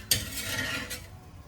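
Spices tempering in hot oil for a vegetable dish give a brief sharp sizzle that starts abruptly, then settles into a steady, close hiss with light stirring.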